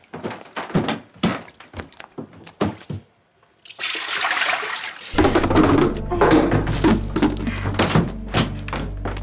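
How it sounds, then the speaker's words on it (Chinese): Water poured in an indoor home scene follows a run of sharp knocks and thuds, with a steady, close splashing pour running for several seconds to the end. "我刚才倒水的时候"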